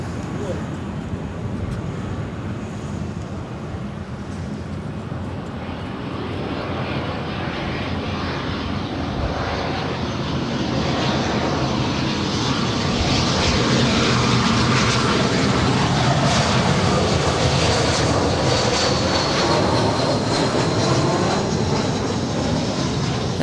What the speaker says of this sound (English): that is Spirit Wings 3035 from Salt Lake City, Utah. It is a 10-year-old A320.